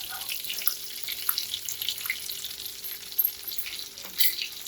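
Chili flakes, oregano and finely chopped garlic crackle in hot butter in a pan, a lively close sizzle with a few sharp pops and stirring clinks, and no talking.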